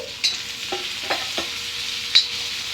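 Masala being stir-fried in a pan: a soft sizzle under a few scattered scraping strokes of a spatula, close and moderately loud.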